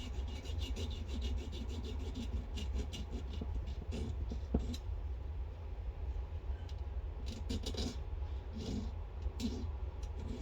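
A hand file rasps steadily back and forth across a metal fastener, a continuous close gritty scraping over a low background hum, keeping an even level throughout.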